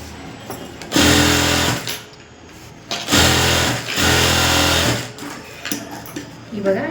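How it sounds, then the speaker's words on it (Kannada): A sewing machine runs in bursts, stitching along the top side of fabric for a Bahubali-style blouse, with loud mechanical whirring starting and stopping and talking in the quieter gaps. "ಈಗ ಟಾಪ್ ಸೈಡಿಂದ ಒಂದು ಸ್ಟಿಚಿಂಗ್ ಹಾಕ್ಕೊಳ್ಳೋಣ ಫ್ರೆಂಡ್ಸ್"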